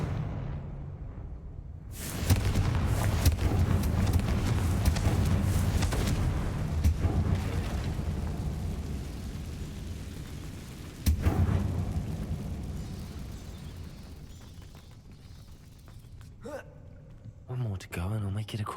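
A Confringo explosive spell goes off in Hogwarts Legacy, a sudden broad blast that rolls into a sustained rumbling roar, with a second sharp burst a few seconds later amid game effects.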